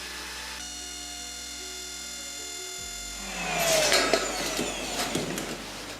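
A power drill starts up over a steady hum in a storage room being turned into a wine cellar, a bright whining burst of drilling that rises loud and continues in uneven pulses.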